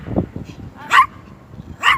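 A dog gives two sharp, loud barks spaced about a second apart, close by, with brief talk and rustling just before.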